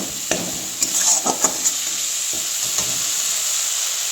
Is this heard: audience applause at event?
no